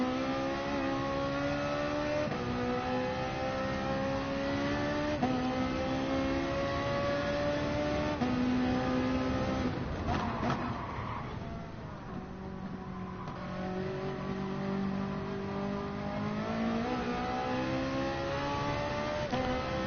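A rear-engined race car screams through its gears in Gran Turismo Sport at Saint Croix, its loud engine note climbing and dropping with each shift and briefly dipping around a corner before revving hard again.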